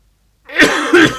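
A single harsh cough or throat-clear bursts out after a short silence, loud and close, with a second push near the end.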